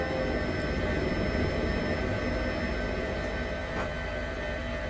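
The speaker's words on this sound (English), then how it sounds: "if the helicopter gets a bit loud and you can't hear what I'm saying" Twin engines of an H145 helicopter in Microsoft Flight Simulator, flying over Alaska, give a continuous, loud, even roar with a thin whine on top, steady throughout and without voices.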